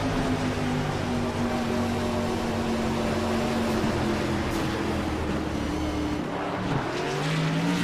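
Stock race car engines on an iRacing onboard replay from an eNASCAR Coca-Cola iRacing Series event at New Hampshire Motor Speedway, a loud continuous multi-engine drone with shifting pitch lines and a brief dip near the end, no talk.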